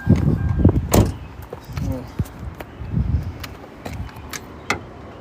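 A car door opening and closing with keys jangling as someone climbs out of a car, a cluster of clunks and rattles up close, followed by a few sharp taps and footsteps.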